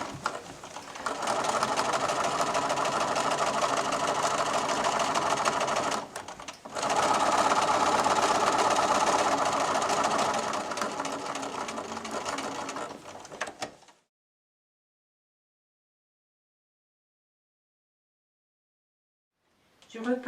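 A sewing machine stitches binding onto a patchwork quilt, running loudly and steadily in two long bursts with a brief pause between, then cutting to silence.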